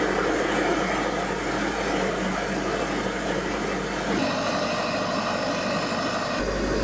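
A Mitsubishi Fuso Canter truck's 4P10 Euro 5 diesel engine runs steadily during DPF cleaning, giving a loud continuous broadband roar and hum that shifts slightly in tone partway through, with no talking.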